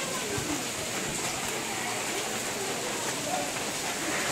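A constant hiss of rain fills the air, even and unbroken, heard from a farmhouse balcony in Karjat, with faint sounds of birds in the distance.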